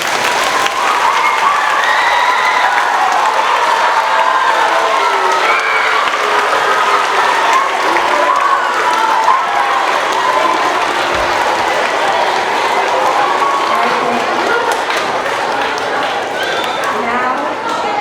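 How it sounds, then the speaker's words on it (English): An audience in a school auditorium applauds the school orchestra at a middle school year-end awards ceremony, with sustained, loud, even clapping and a few faint cheers running steadily throughout, unbroken by speech. "and now you can applaud the orchestra"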